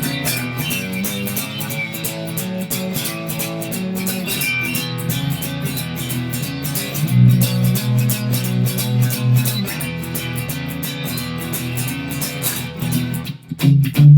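Blues guitar working a root-and-6th shuffle pattern, with steady repeating low notes rocking back and forth at an even rhythm, played clearly with no talking over it.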